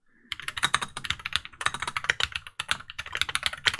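Typing on a Wooting 60HE keyboard fitted with Everglide switches: fast, dense, continuous key clacks up close, with a brief pause partway through, and no voices.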